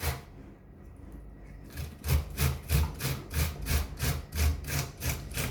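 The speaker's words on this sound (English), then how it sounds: "Just graters are only sharp in one direction, so only grate downwards." Onion rubbed down a hand grater in a steady rhythm of about a dozen rasping strokes, starting softer and growing louder and evenly paced, with no talking.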